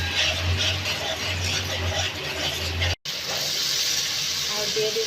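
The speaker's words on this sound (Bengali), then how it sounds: "মশলাগুলো খুব ভালোভাবে আমরা কষিয়ে নেব।" Chili powder, turmeric and cumin masala fries in a pan for liver singara, a loud steady sizzle and hiss that cuts out for an instant before resuming, with a voice speaking over it.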